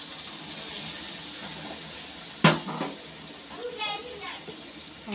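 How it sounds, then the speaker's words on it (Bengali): Hot water is poured into a pan of paneer dal, giving a sudden splash and hiss over a low background sizzle, followed by bubbling and a voice speaking briefly. "আর এই যে এখানে গরম জলটা ঢেলে দেবো এখন।"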